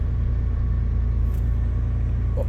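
An old 4x4 truck engine, brought back after years of sitting, runs at a steady low rumbling idle, close and continuous throughout.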